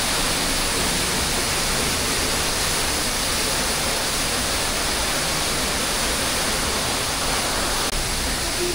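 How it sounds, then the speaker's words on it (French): Waterfall in Dominica seen from behind in rainy weather, a dense, continuous roar of falling water filling the whole clip at steady loudness, close and without any voices. "On vient voir la cascade de l'arrière."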